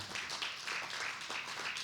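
Congregation applauding during a church service, a steady wash of many hands clapping with no single claps standing out, fairly faint and continuous throughout.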